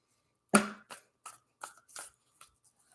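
Tarot cards are shuffled in a series of soft, separate riffles and taps, one louder flurry and then about five quieter ones spaced roughly evenly, close and faint in a quiet room with no talking.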